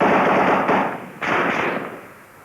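Loud gunfire crackles between front lines in Bosnia, a dense burst of rapid shots and echoing reports lasting a couple of seconds before it tails off into quieter reverberation.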